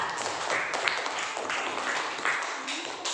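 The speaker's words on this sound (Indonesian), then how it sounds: "tepuk tangan untuk kelompok 3" Elementary classroom pupils clap for a student group after a lesson on tayamum, a short burst of quick, uneven clapping from a small group at moderate volume.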